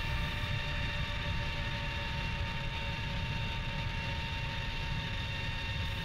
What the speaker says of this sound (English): This is our first afterburner-assisted MiG-17 takeoff.